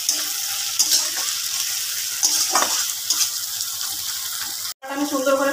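Spice masala sizzles and fries in a pan while being stirred for a Bengali bhetki fish bone curry, a steady close crackling hiss with scraping strokes, briefly cutting out before more sizzling and clatter.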